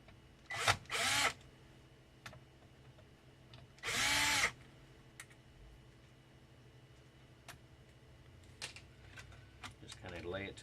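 A power screwdriver backs screws out of a Dell Inspiron One 19 all-in-one computer in three short, close whirring bursts, two near the start and one a few seconds later, followed by light handling clicks.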